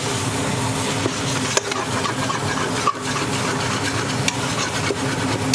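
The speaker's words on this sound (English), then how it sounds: "we turn our heat source a little bit back and give it a good stir" Bolognese sauce bubbles and sizzles in a pan while a spoon stirs it, a dense steady crackling hiss with faint scraping, close and fairly loud throughout.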